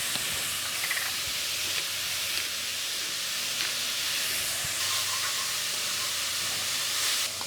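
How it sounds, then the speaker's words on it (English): Leeks and carrots seasoned with salt and pepper, cooking in a pot for mushroom bourguignon: a steady, soft sizzling hiss with a few faint ticks, alone without speech. "now I'm gonna add the leeks and the carrots."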